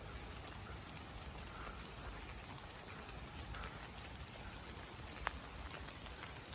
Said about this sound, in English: The sound of the rain on the leaves.